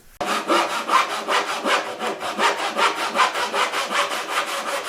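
A guitar fretboard being radiused with 60 grit sandpaper: steady back-and-forth rasping strokes, about four per second, loud and close with no voices.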